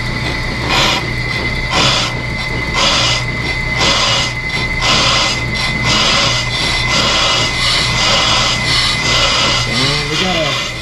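A brake lathe makes its first cut on a Subaru brake rotor, a steady close grinding hum with pulsing scraping bursts and a constant motor tone, while someone talks over it in a garage.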